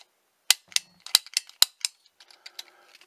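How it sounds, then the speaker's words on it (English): Plastic fruit cards being pushed into a Fruit Ninja toy gun from a fast-food kids' meal playset, giving a run of sharp plastic clicks and snaps followed by softer ratcheting rattles, close by with no talk. "So let's load it up and see what we can shoot."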